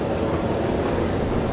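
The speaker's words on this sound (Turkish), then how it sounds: "Tren geliyor." A train rolls along rails nearby, a continuous loud rumbling roar with clattering wheel noise throughout, no voices over it.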